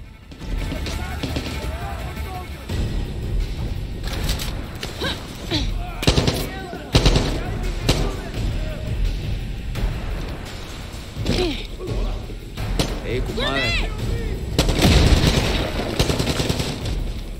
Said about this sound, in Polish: Fajnie mi się tą kurczę tym karabinem strzela.